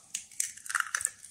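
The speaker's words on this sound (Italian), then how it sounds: "Rompiamo le uova" Eggs cracked into a bowl for an almond-flour ring cake batter, a quick cluster of close, crisp shell cracks and small taps.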